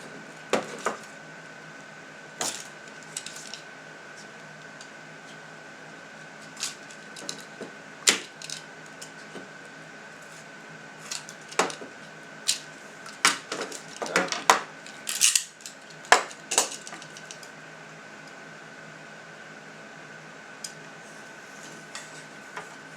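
Trimming a remote control window blind to length, a series of scattered sharp snips, clicks and small taps against a faint steady hum, irregular and close, no voices.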